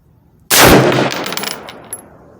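A single sharp, loud gunshot from an S&W M&P15 rifle fired at a 25-yard range, with a quick crack followed by a ringing decay that fades over about a second and a half.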